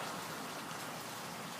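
Water cascades through hydroponic rain gutters in a West Texas greenhouse, a steady, close rushing splash with no pauses and no voices.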